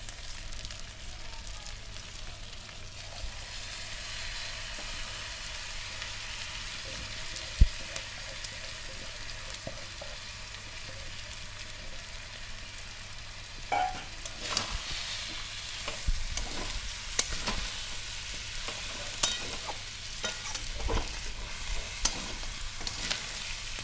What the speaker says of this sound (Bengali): ছোটো দানার গোবিন্দভোগ চালটা আমি এবার মশলার সঙ্গে ভালো করে ফ্রাই করে নেবো